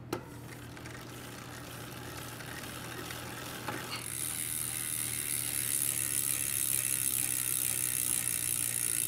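A Fulcrum Racing bicycle wheel freewheels on a Pinarello F7 Ultegra, its freehub ratchet giving a continuous fast whirring buzz that grows louder and brighter after a few seconds, close up with no speech.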